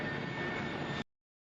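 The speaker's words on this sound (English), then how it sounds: "an airplane taking off and gaining altitude" An airplane taking off roars with a steady, loud, broadband engine rush, continuous for about a second before cutting off abruptly to silence.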